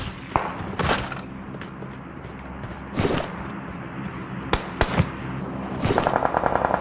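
Gunfire in PUBG: loud sharp shots and short bursts at irregular intervals, some near and cracking, closing on a rapid automatic volley, over a steady game background with no talk.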